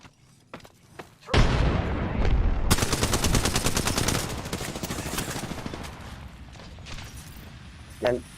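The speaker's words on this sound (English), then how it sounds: "I am taking fire." Gunfire in the Apex Legends video game erupts as loud, sustained automatic bursts with rapid rattling shots. It tapers into fainter rumbling and ends with a brief tonal game sound.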